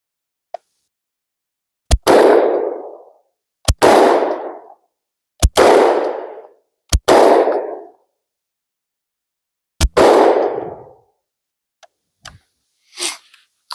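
A shotgun fires birdshot field loads, high and low brass, at a drone in five sharp, loud outdoor blasts, each trailing a short rolling echo, with faint clicks and light knocks after the last shot.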